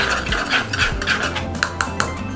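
Spinach, chickpeas, crushed garlic and green coriander are mixed in a bowl, giving steady scraping and stirring with a few sharp clinks of utensil against the bowl near the end. The clicks and scrapes are close and moderately loud, with no talking.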